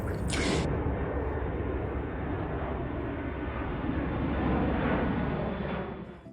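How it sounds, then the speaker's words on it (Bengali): An airplane passes high above Cox's Bazar's Sugandha Beach, a steady, broad engine drone that holds evenly for several seconds and eases off at the end, with no voices. "দূর আকাশে দিয়ে তাকাই তখন দেখি মেঘের ফাঁকি দিয়ে দুই একটা বিমান উড়ে যায়"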